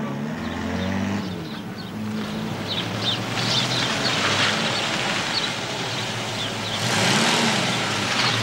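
A car engine revving and pulling away as a thief drives off, a loud, broad rumble that holds steady and swells again toward the end, with no one speaking.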